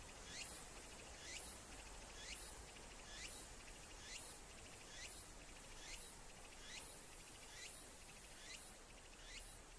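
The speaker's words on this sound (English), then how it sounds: "I think the cicada is nice enough" Faint, evenly spaced cicada chirps from a video game repeat about twice per second over a soft, steady background hiss, with no voices.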